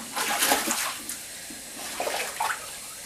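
Fresh water pours into a dog's swimming pool, giving an uneven run of splashy, hissing gushes that swell and fade over a few seconds, fairly close and with no talking.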